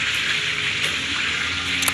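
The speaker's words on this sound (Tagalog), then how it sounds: "habang nagpiprito si Mama ng manok" A steady, loud hiss and crackle of chicken frying in hot oil, continuous and close, with no talking.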